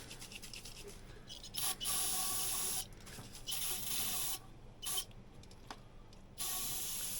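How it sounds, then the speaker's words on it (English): Several hissing bursts from an aerosol can sprayed onto a rag during a dirt bike chain repair, each lasting about a second, close by at irregular intervals with quiet pauses between them. "Here, spray that rag up."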